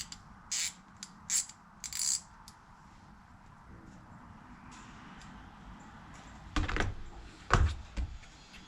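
A Geardrive 1/2 inch 90-tooth ratchet clicks in a few short bursts, then two louder clicking runs near the end, close up with no talk.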